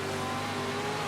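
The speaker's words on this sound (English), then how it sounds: "I can hear engines behind me." Dirt-track race car engines from a World of Outlaws dirt racing career-mode game drone steadily behind the player's car, a sustained mid-level engine hum with no voices.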